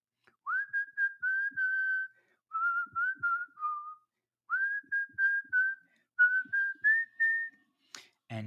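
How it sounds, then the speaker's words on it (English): A person whistles a melodic tune alone, clear and close, in four phrases of short held notes with brief pauses between, ending in a quick breathy noise. "maybe you're a really good whistler"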